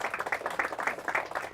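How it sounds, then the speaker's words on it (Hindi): Applause greets a quiz team of higher secondary school students from Farmagudi, Ponda, at a Hindi school quiz contest: a steady patter of clapping hands from a small audience, moderately loud and continuous throughout. "तालियों से उनका स्वागत करें।"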